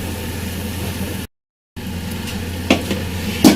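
Black pepper chicken karahi frying in a pan, giving a steady close sizzle with a short silent gap and a few sharp stirring clatters near the end.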